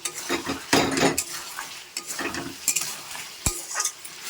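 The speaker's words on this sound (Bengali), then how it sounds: "মাংসটা ভালো করে কষিয়ে নেব" Meat frying with a whole garlic bulb in a pan, loud close sizzling with repeated stirring strokes and clinks of a spatula against the pot.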